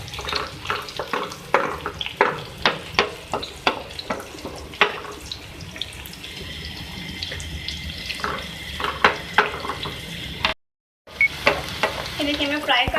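Chopped green chilies and chili flakes fry in a pan while a spoon strikes and scrapes in a quick rhythmic run of clacks over steady sizzling, broken by one brief silent gap.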